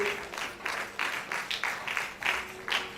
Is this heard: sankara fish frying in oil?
no